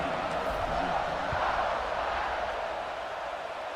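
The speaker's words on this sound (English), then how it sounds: "this crowd now ready to get behind them" A football stadium crowd at a college game roars steadily as the teams line up for a kickoff, a dense, continuous wash of cheering with no clear break and some voices faintly audible within it.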